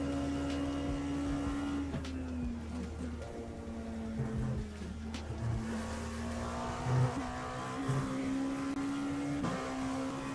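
A race car in a sim-racing game drives steadily, its engine holding a droning tone with gear shifts and occasional revs, under someone talking throughout.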